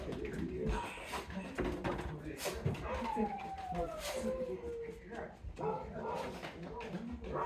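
Dogs bark and whine amid a busy, noisy room, with a high whimpering tone sliding downward and people talking in the background.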